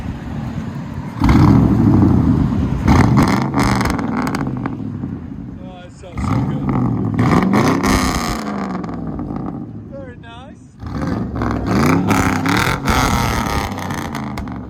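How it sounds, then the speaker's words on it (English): A straight-piped 5.3-liter V8 in a Chevy Silverado pickup revs repeatedly in deep rumbling bursts, rising and falling, with people talking over it. "Guys enjoying revving it even more."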